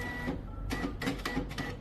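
A Zebra ZD220 thermal label printer calibrates with a series of short mechanical feed bursts and clicks, close and distinct, in quick irregular succession with no talking.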